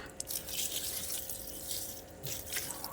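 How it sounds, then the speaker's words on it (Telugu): About four litres of water poured into a container to make a fertilizer for dragon fruit plants, a steady close splashing gush that runs without a break. "ఒక నాలుగు లీటర్లు పోస్తానండి దీంట్లో"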